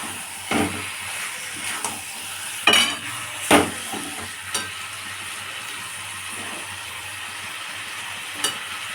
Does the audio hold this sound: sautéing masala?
yes